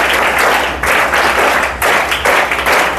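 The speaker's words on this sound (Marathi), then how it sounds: "त्याच्यासाठी टाळ्या वाजवा." An audience at a lecture claps in sustained, dense applause that swells in waves over a few seconds, loud and close, with no speech over it.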